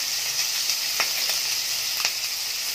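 Green chilies fry in hot oil with mustard seeds and curry leaves, giving a constant close sizzle with a few sharp pops and spits, and no voices.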